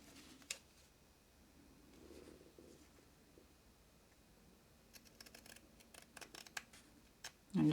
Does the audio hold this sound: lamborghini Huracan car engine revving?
no